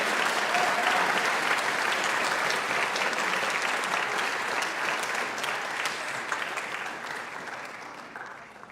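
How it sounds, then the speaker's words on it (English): An audience applauds at a high school senior awards ceremony, with dense, sustained clapping from a large crowd that stays loud and then slowly thins toward the end. "let's give one more round of applause to our valedictorians and all of our senior scholarships"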